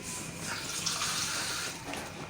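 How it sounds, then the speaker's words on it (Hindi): Water is poured into a pot of sugar for sweet zarda rice, a steady close splashing pour lasting a couple of seconds with no voices. "थोड़ा सा हम इसके अंदर पानी भी ऐड करेंगे ताकि चीनी हमारी जल्दी जल्दी फुल जाए"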